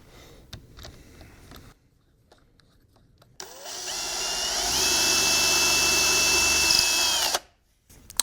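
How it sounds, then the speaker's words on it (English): A power drill whirs loudly and steadily for about three seconds, boring holes in wood for live-edge end table legs, after some faint clicks and handling noises, then stops abruptly. "And that's all there is to drilling those."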